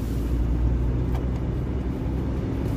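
A car drives along a street near a new railway crossing by Gołonóg station in Dąbrowa Górnicza, with a steady close engine and road rumble and no speech.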